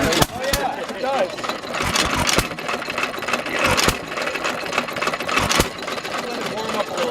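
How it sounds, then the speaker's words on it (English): A 1922 Hercules Model G hit and miss engine runs close by, its irregular firing chuffs and clattering mechanism repeating unevenly while people talk over it. "it's a 1922 Hercules Model G hit and miss engine"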